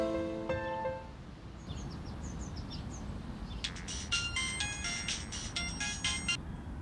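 A mobile phone rings with an incoming call, playing a chirpy electronic ringtone melody that starts softly and grows brighter, over a background of outdoor hiss.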